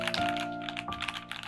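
Typing on a Keychron Q60 mechanical keyboard with silicone gaskets between its top and bottom cases: a close, steady run of clicky keystrokes over about a second and a half, with no talking.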